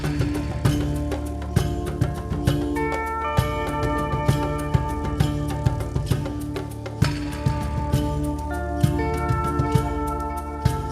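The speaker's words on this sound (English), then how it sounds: "I made bucket 2 have a slide guitar because it's a desert chase" Video game music layer for a desert chase, with slide guitar over a steady driving beat of percussion and bass, loud and continuous with rhythmic hits throughout.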